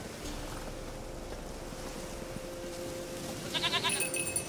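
Goat bleating in The Witcher 3: Wild Hunt, a short bleat near the end rising over a steady outdoor ambience of low wind.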